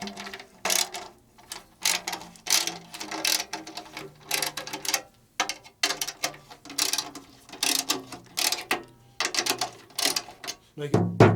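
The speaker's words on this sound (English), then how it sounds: "you're going to hear the gears clicking here" Rapid mechanical clicking of gears ratchets in repeated bursts as a drum key turns a tension bolt, close and crisp, with short pauses between turns.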